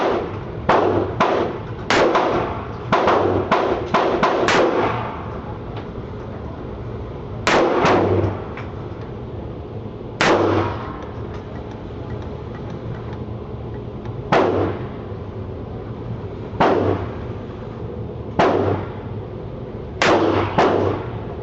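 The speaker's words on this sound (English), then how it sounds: "So shooting pistol is different than shooting a revolver." A Smith and Wesson SD9 VE pistol fired at 15 yards on an outdoor range: a quick string of sharp, loud shots, then single shots spaced a few seconds apart, each with a short echoing tail.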